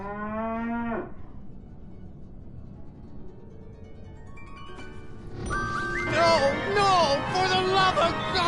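A cow moos loudly in a Sam & Max adventure game, a long bellowing call that ends abruptly, followed by ambient hum and then bright musical, tonal game sounds.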